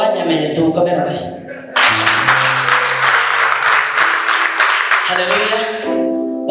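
A church congregation breaks into loud, broad applause lasting a few seconds, set against a sustained musical tone, with a voice heard before and after.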